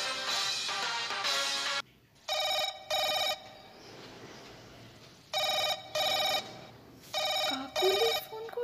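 A telephone rings in repeated double bursts of electronic trilling with short gaps between them, loud and close in an otherwise quiet room.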